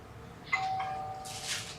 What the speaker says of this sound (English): Somebody rang the bell on me and shut me down